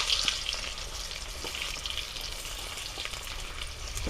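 Chopped onion frying in a pan with cinnamon and small green cardamom, a continuous close sizzle and crackle with occasional stirring scrapes.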